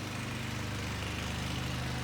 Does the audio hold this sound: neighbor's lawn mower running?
yes